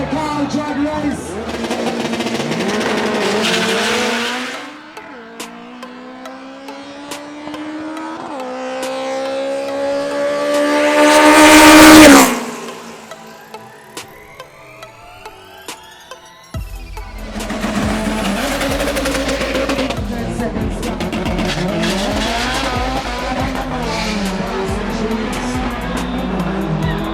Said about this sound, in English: This is what I call drag race.